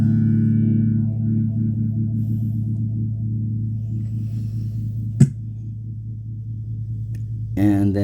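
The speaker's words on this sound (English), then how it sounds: "Phaser, which is a beautiful sound." Electric guitar played through a phaser effect, sustained chords swirling with a slow sweeping shimmer, fairly loud and steady, with a brief sharp click near the end and a strummed burst at the close.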